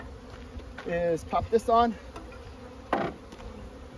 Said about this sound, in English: I got a bunch of field bees coming back